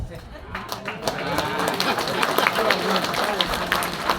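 Audience applause at a school monologue performance by a junior high drama group, a broad wash of clapping that swells and holds steady for several seconds at moderate volume, with some voices mixed in.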